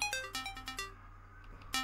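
A mobile phone ringtone plays a short, repeating electronic melody of bright bell-like tones, faint and alone for about two seconds.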